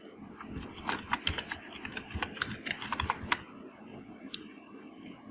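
A computer keyboard clatters under quick, irregular keystrokes as a word is entered, a burst of close, crisp taps with short pauses between them and no talking.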